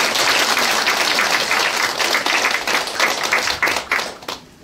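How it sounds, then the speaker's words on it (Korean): A crowd of party members at a political meeting in Daegu gives a loud, full round of applause that runs strongly for several seconds before thinning into scattered claps and fading out. "제가 박수 한번 부탁드리겠습니다."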